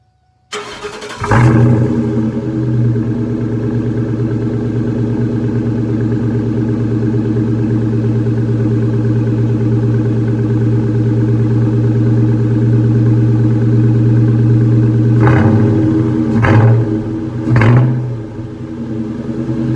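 A Stedda motorcycle with a newly installed cold air intake starts up and idles steadily and loudly, then gets a couple of sharp throttle blips near the end.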